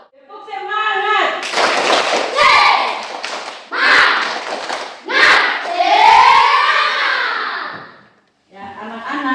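A primary school class claps out a rhythmic tepuk semangat pattern while the children chant along loudly, giving bursts of rapid clapping mixed with shouted voices that end in a short pause before more speech.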